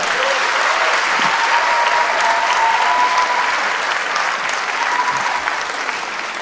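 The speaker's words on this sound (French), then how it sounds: "On l'applaudit bien fort." An audience applauds loudly and steadily, a dense wash of clapping that fills the whole stretch without pause and fades only slightly toward the end.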